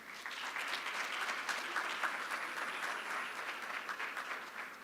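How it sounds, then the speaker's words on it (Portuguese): An audience claps for a speaker at a panel of a Brazil–Chile forum on energy and strategic minerals, a sustained, fairly soft round of applause that swells and tapers slightly over several seconds. "Le damos un fuerte aplauso"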